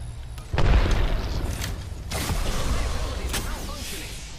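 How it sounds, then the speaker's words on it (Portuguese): A grenade goes off in the video game Apex Legends, a loud booming blast followed by sustained rumble and further bursts of in-game combat noise, with a player talking over it. "Tacaram granada."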